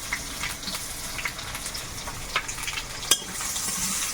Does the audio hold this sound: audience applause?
no